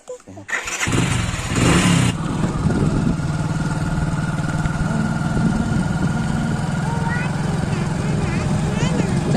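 A motorcycle engine starts with a sputter and then settles into a steady, loud, close idle that rumbles on without pause.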